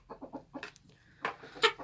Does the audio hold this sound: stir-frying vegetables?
no